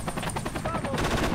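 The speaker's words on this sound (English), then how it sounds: "Can I have the co-pilot seat so I can hear the chopper?" A helicopter in the Project Reality combat game on the Goose Green Falklands map drones with steady, pulsing rotor chop, overlaid by rapid bursts of gunfire.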